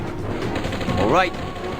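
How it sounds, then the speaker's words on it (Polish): A short burst of gunfire in the video game Commandos: Origins, a quick crackling volley over a busy background of game sound. "Słyszycie strzały tych broni? To, to, to słychać jak broń."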